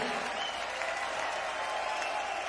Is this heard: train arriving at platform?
no